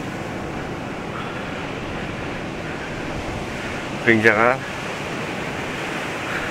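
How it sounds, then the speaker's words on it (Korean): Ocean surf on a beach known for surfing rolls in as a constant broad wash of breaking waves, with a brief spoken word rising over it midway. "파도 소리가 엄청났네요"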